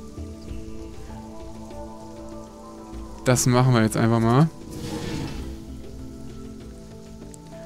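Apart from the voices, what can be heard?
black rain falling in video game Sheltered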